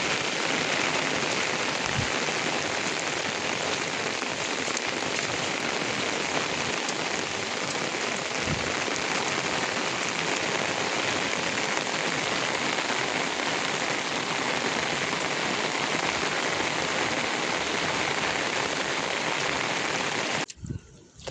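Steady rain pours over rice paddy fields during planting, a dense, even hiss of drops lasting throughout before cutting off abruptly near the end.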